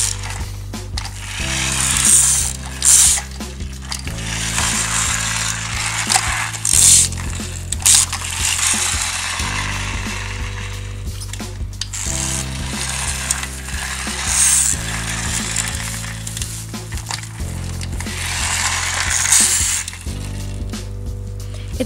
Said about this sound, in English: It has a mechanism that actually when you pull back, sort of like a pullback motion